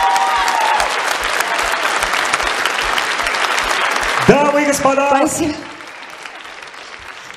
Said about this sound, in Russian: Мы аплодируем вам!